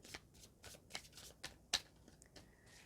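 Tarot cards from a deck being shuffled and handled: a series of close, soft riffling bursts and sharp card flicks at an uneven rhythm, one snap standing out, with no voice.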